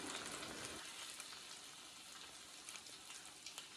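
Onions sautéing and caramelizing in a pan give off a soft, steady sizzle with faint crackles and pops, a quiet continuous fry with no talking.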